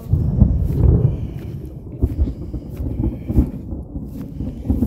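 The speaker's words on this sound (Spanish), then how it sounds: "Ahí va la tormenta fuerte." Strong thunderstorm with rolling thunder rumbling low and continuous, mixed with wind buffeting the microphone and a steady wash of noise, loud and near throughout without talk.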